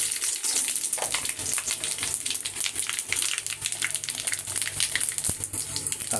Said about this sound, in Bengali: এবার আমি ফোড়ন দিয়ে দেবো। কড়াতে তেল দেওয়া আছে।